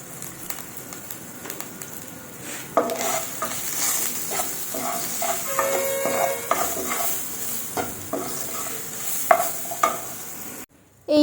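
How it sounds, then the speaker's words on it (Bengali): Arhar and black masoor dal being fried with salt and turmeric in a pan, with a steady close sizzle and stirring scrapes and taps throughout, ending abruptly. "প্রথমে একদম ভেজে নিই, তারপরে একদম সিদ্ধ করতে বসিয়ে দেব"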